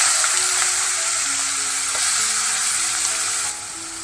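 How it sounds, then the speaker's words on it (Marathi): Chopped onion sizzling and frying steadily in a few spoonfuls of hot oil while making raw banana masala sabji, a dense continuous crackle with a faint tap-like hum beneath, easing slightly near the end. "तेल गरम झाल्यानंतर आपल्याला कांदा बारीक चिरलेला तो घालायचा तर मी कांदा घालून घेते"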